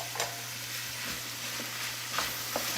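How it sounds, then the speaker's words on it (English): Cherry tomatoes and broccolini sizzle in a hot pan, a steady crackling fry with soft stirring scrapes and small pops, close and moderately quiet. "now I'm going to throw in 2 good pints of cherry tomatoes"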